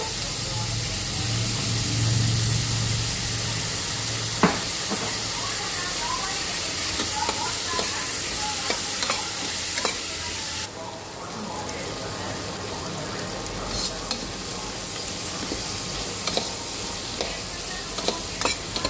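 Onions, garlic, ginger and green chilies sauté in a pan for a jackfruit theeyal, with a steady close sizzle and occasional stirring scrapes; a person talks over the cooking, and the sizzle briefly dips midway before resuming.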